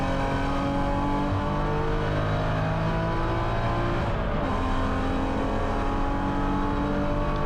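A BMW Spec E90 race car's engine drones loud and continuous at Watkins Glen in the rain, pitch shifting as it revs through a corner, heard close from inside the car.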